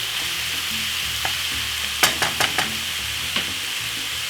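Pieces of steak fry in a pan for a Caribbean pepper steak, giving a steady close sizzle broken by a few sharp scrapes and knocks of stirring.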